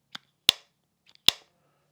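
Plastic lid of an Apple AirPods Pro charging case snapping open and shut, a few sharp, faint clicks close to the microphone, separated by brief silences.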